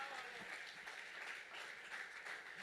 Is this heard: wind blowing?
no